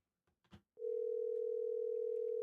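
A telephone dial tone comes on after a couple of faint soft knocks and then holds as a loud, steady, unbroken hum while a call is placed.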